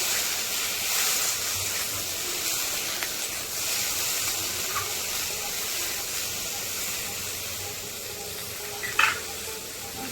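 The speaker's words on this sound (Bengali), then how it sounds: "কুঁদরিগুলো একটু লাল করে ভেজে নিতে হবে ভালো করে" Round slices of ivy gourd (kundri) frying in oil in a kadai, a steady close sizzle and hiss running throughout with a few faint clicks and one brief sharp knock near the end.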